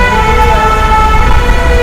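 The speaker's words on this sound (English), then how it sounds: "it's a fire engine" Fire engine siren blaring loud and close, a steady sustained wail with layered harmonic tones over low road rumble, alone without talk.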